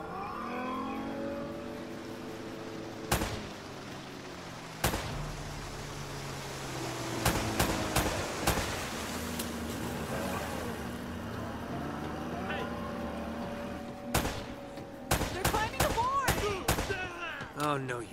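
Gunfire in the video game Uncharted: Drake's Fortune, scattered sharp shots cracking out singly and in quick bursts over engine-like rumble and game voices.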